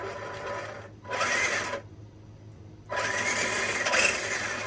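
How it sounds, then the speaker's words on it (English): The small electric motor of an RC4wd Gelande 2 Land Rover D90 scale RC trail truck whirs in two bursts with a brief quiet between, a high buzzing spin close by on its first power-up. "All right, first power up, kind of hang on to it just in case something's set wrong."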